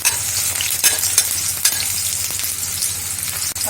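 Garlic fries in a pan of hot oil for a Chettinad mandi, making a loud, close, continuous crackling sizzle with brief scraping stirs, and no talking.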